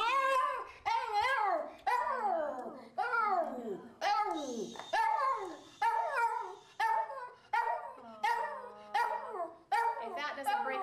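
A Jack Russell Terrier at an animal adoption setting gives a rapid series of loud, close, high yelping barks and whining howls in repeated bursts, some drawn out into wails.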